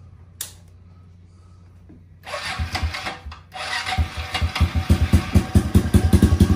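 Small engine fitted with a cheap aftermarket carburetor cranks with scraping turns, then catches into a close, loud, rough idle with a rapid pulsing beat that grows steadier.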